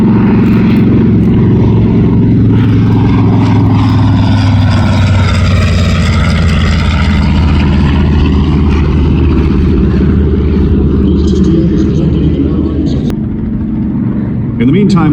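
A TBM Avenger propeller aircraft at an air festival flies past with a loud, sustained engine roar and shifting pitch that swells and fades over about fifteen seconds, with a commentator talking over it.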